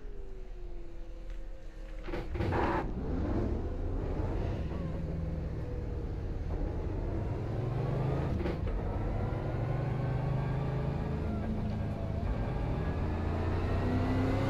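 A super late model race car engine in iRacing at Myrtle Beach runs steady and close, rising in pitch through long accelerations with a couple of sharp shifts or blips along the way.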